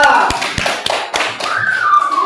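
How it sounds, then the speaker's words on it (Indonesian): A classroom group claps for a presenting team, a few sharp, loud hand claps and taps scattered irregularly under voices talking nearby. "Tepuk tangan untuk kelompok dua."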